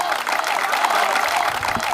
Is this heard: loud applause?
yes